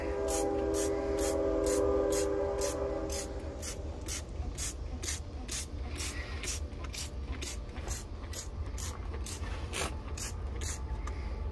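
Spraying a Bobcat 610 skid steer with a hand pump sprayer: regular rapid clicking pump strokes over a steady hissing spray, close and continuous, with a brief mechanical squeal at the start.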